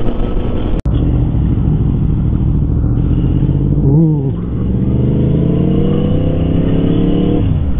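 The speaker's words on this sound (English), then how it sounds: "these cross lane engines sound so good" A crossplane motorcycle engine rumbles loudly and steadily up close, with a brief sharp rev partway through before settling back into a deep idle.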